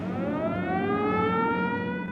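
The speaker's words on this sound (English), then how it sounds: "The siren is hands down the most beautiful sound any Husky fan will ever hear." The Husky stadium civil defense siren wails in a long, steady rising tone with rich harmonics, loud and sustained with no break.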